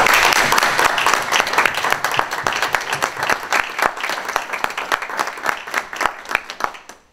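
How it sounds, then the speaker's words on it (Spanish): An audience at a civic ceremony in Viña del Mar gives a loud, sustained round of applause, with dense overlapping claps that stay steady for several seconds before thinning out near the end. "quiero pedir la autorización para romper el protocolo y le rendamos un buen aplauso a don Oscar Padrón"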